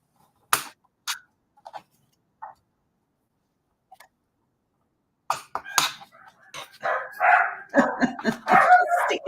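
A dog barks in short sharp bursts, first a few isolated yaps with pauses, then a louder, faster run of barking toward the end, heard indoors with no one talking.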